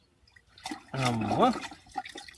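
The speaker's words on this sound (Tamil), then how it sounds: "கழுவுங்க, தண்ணியில் போட்டு கழுவுங்க." Freshly harvested lesser yam tubers are sloshed and swirled in water in a village garden, a short burst of splashing and gurgling, with a brief spoken reply before and voices nearby.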